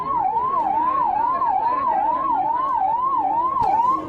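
An ambulance siren wails in a steady, rapid up-and-down cycle, loud and close, with no other sounds over it.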